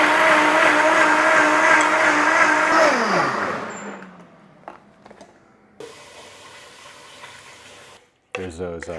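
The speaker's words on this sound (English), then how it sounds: "All of this fat can go into the blender." A kitchen blender whirs loudly while blending meat fat for tacos, then winds down and stops, leaving quieter kitchen clatter and a brief final burst of noise.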